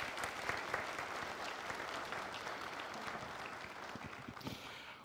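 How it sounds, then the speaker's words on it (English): A church congregation claps during a Sunday morning service, producing a soft, even wash of applause with a few sharper individual claps standing out, lasting about five seconds. "Another round of applause is appropriate."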